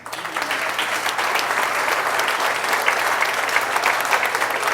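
Dense, steady applause from a lecture audience clapping for themselves, a continuous wash of hand claps held at an even level throughout.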